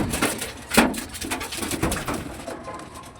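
Pigeons kept in a loft troubled by rats coo close by in repeated low bursts, with a few sharper rustles or wing sounds mixed in.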